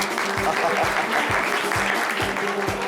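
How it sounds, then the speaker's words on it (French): Children applaud loudly together, a dense continuous clapping with a low rhythmic thumping underneath and voices mixed in throughout. "Oui, on peut s'applaudir très très fort les enfants."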